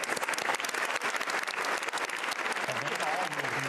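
Sustained, dense applause fills the chamber at the 2022 State of the Union address, a steady roar of many hands clapping from start to finish, with faint voices toward the end.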